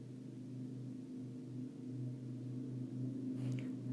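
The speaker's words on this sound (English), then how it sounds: "sorry if you can hear the lawnmower outside my house," Lawnmower running outside a house, a steady low droning engine hum heard faintly at a distance, continuous and unchanging throughout.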